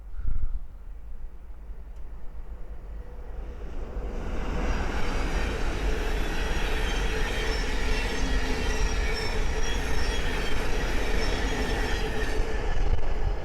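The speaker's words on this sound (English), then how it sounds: "then we have a Thameslink 700 coming through, running about 2 minutes late from Cambridge to Brighton" Thameslink Class 700 electric multiple unit passing through Great Wymondley on the East Coast Main Line, a steady rising rail roar with wheel noise building after a quiet start and holding loud to the end.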